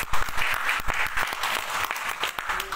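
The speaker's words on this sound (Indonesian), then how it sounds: "Tepuk tangan dulu buat beliau." An audience at a business gathering in Indonesia applauds to welcome a guest, brisk close clapping with distinct individual claps popping through the steady wash.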